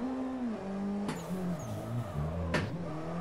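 Sim racing car drifted through a lane with a hydraulic handbrake and clutch kicks: a steady engine drone shifts pitch up and down as revs change, with two brief bursts of noise from the handbrake pulls, no talking.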